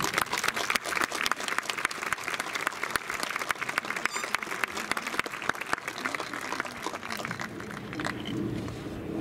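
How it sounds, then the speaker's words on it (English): A high school graduation crowd applauds teachers and parents, a broad wash of many hands clapping steadily, thinning slightly toward the end. "please join me in a well-deserved applause"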